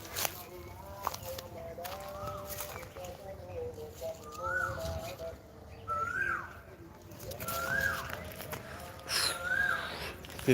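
Several birds call and coo nearby in bursts in a plum orchard, overlapping with scattered footsteps and background chatter.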